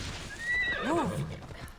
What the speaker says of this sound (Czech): To chce si zavolat rychle koně